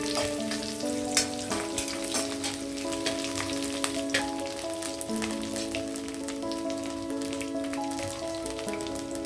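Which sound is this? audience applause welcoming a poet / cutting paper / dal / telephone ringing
dal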